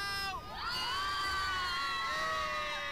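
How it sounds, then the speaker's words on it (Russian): Dense crowd of fans, many young girls, shrieking loudly at a Q-pop event: a continuous wall of high-pitched screams and cheers that swells and holds for the whole stretch, with no talking over it. "Нифига они визжат у меня аж в ушах там"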